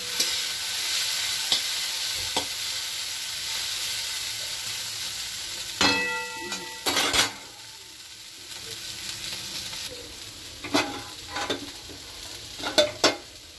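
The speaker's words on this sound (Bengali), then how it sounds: "আর এইখানে এই যে উচ্ছে দিয়ে, আলু দিয়ে, কাঁকরোল দিয়ে এটা ভাজা হচ্ছে।" Bitter gourd, potato and spiny gourd frying in a pan, a continuous soft sizzle broken by several sharp clanks and scrapes of a utensil stirring against the metal.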